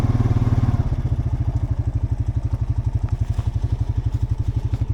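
Honda Rancher ATV engine chugging loud and close in a steady, rapid pulsing rhythm while riding up a logging road, with no voices.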